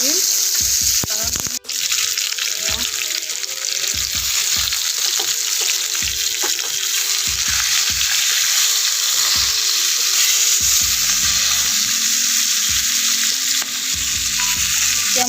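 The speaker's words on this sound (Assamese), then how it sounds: "মাছ ভাজিবৰ কাৰণে এইখন পেনখন বহাই দিলোঁ মই। ইয়াতে এতিয়া মিঠাতেল দি লৈছোঁ।" Spiced fish frying in mustard oil in a pan: a loud, continuous sizzle close by, punctuated by repeated scraping and tapping knocks throughout.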